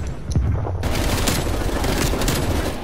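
FARA 83 firing in Call of Duty Black Ops Cold War, a loud sustained burst of rapid automatic gunfire lasting nearly three seconds, close and dense.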